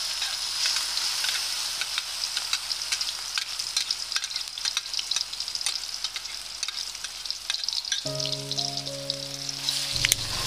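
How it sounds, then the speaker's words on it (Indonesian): Hot oil crackles and sizzles steadily as seasoning sautés in a pan over medium heat, with occasional sharp pops and a short tone near the end. "Kita akan menumis dengan menggunakan api kompor yang sedang."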